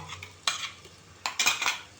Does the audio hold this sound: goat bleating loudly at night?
no